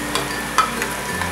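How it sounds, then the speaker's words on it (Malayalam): Ground spice paste sautéing with fish in a pan for Kerala-style meen pollichathu, a low steady sizzle broken by a few soft stirring scrapes and one brief clack, close and moderately quiet with no talking. "ആ സമയത്ത് നമ്മൾ അരച്ചു വെച്ച ആ പേസ്റ്റ് അതിലോട്ട് ആഡ് ചെയ്ത് ഇനി നന്നായിട്ട് വഴറ്റിയെടുക്കണം."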